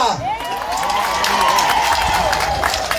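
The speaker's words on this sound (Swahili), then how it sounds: "Makofi ya chief wetu wa Inaina." A crowd at a gathering in Thika, Kenya claps for the local chief, a loud burst of clapping mixed with high ululating cheers and voices.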